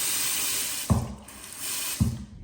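Hotel bathroom sink tap running in a steady hiss of flowing water, fairly quiet and close, with two soft thumps of something set down partway through.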